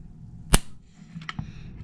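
A single sharp metallic snap rings out as the trigger of an IWI Masada 9mm pistol breaks against a trigger pull gauge, followed by faint small clicks of handling.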